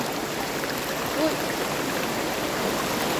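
A river flows steadily nearby with a constant wash of rushing water, even and unbroken for the whole stretch, with no voices over it.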